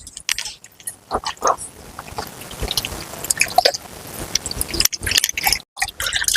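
Cornflour being stirred into water for a jelly-type halwa, with soft wet squishing and dripping sounds and irregular stirring scrapes, close and moderately loud, without talk.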